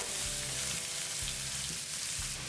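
Chopped onions with a little salt fry in hot oil for puli kuzhambu, giving a constant close sizzle with a few soft stirring scrapes and no talking.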